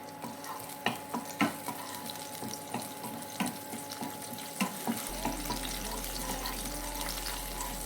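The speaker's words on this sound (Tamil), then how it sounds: "தாளிக்கிறதுக்கு கருவேப்பிலை ஆட் பண்ணிக்கலாம்." Curry leaves frying in hot oil in a kadai for tempering a bottle gourd kulambu, a steady crackling sizzle with scattered pops and stirring clicks, close and moderately quiet, no talking.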